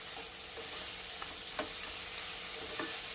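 Mixed vegetables sautéed in a pan for a restaurant-style mixed veg dish, with a low, even sizzle broken by several light scrapes and taps of a spoon stirring at irregular intervals, no talking.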